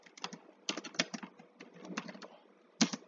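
Quiet keystrokes on a computer keyboard as a street-light complaint is typed into an online petition portal. They come as irregular clusters of clicks with short pauses and one sharper final tap.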